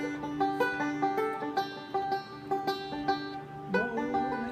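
Picked string melody on the second string played with a forward roll, a steady rolling pattern of bright plucked notes in repeating groups, close and clear, alone without voices.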